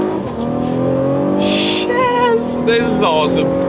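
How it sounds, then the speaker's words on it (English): A 2016 Cadillac CT6 luxury sedan pulls hard from low speed, its engine note climbing steadily and loud inside the cabin while someone speaks excitedly over it. "let's do a quick little acceleration, see how quickly the CT6 can get up to speed here"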